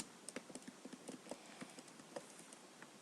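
Quiet clicks of typing on a computer keyboard come in an irregular run of light taps, faint and close, with no voices.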